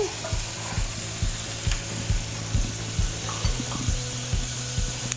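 Fennel and onion frying in a pan while being stirred, cooked gently to soften without browning: a soft, even sizzle under regular scraping strokes of a utensil, close and quiet, with no talking.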